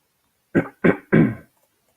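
Three quick, rough coughs in a row, close and fairly loud, with short pauses between them and silence before and after.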